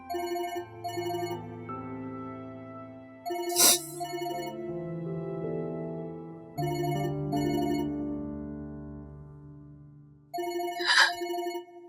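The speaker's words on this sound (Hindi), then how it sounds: "शरियार का फोन है।" A mobile phone ringtone plays a melodic electronic tune in repeating phrases, with bright chime-like bursts between them, loud and close for the full twelve seconds.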